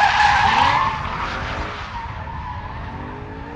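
A new BMW M3 with a 4-litre V8 and over 400 brake horsepower to the rear wheels drifts, its tyres skidding in a loud, sustained squeal that eases slightly after the first second and carries on alone.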